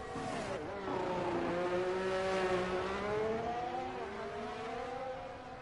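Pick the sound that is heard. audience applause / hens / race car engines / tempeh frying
race car engines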